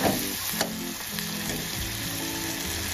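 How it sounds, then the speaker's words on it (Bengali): Prawns frying in plenty of oil in a pan give off a steady, close sizzle that carries through without a break, with faint clinks from a utensil along the way and no talking. "4 থেকে 5 মিনিট ভালো করে ভেজে নেব চিংড়িটা।"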